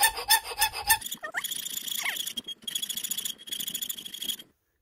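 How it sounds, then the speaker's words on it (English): Square file worked back and forth on metal in a home workshop, a rough rasping rhythm of repeated strokes with squeaky scraping, close and fairly loud, stopping abruptly near the end. "by using my square file, of course, and a lot of elbow grease"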